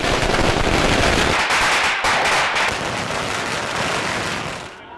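Firecrackers bursting nonstop at a crowded political party celebration in Chennai, a loud, dense crackle of overlapping bangs filling the whole stretch before easing off at the very end.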